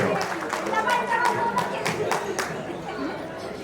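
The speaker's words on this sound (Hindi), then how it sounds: "एक जोरदार ताली तिवारी परिवार के लिए बजा दीजिए" Guests at an engagement ceremony for the Tiwari family clap in a loose burst of applause, with sharp individual claps standing out over crowd chatter and a speaker's voice.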